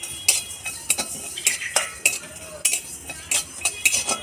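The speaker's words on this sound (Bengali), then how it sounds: "কড়াইয়ে প্রথমে গোটা ধনিয়া, গোটা জিরে দিয়ে তো হালকা করে ভেজে নেব" Whole coriander and cumin dry-roast in a hot kadai while a metal spatula stirs them, giving sharp, regular scrapes and clinks about twice a second, close and fairly loud, with only a faint crackle underneath.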